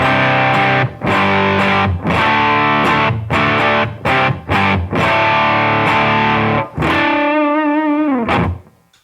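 Electric guitar through a Ramble FX Marvel Drive overdrive pedal, chords strummed in a steady rhythm, crunchy and loud, ending on a sustained ringing chord that fades out.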